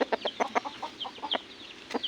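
Chickens cluck close by in a quick, irregular series of short clucks.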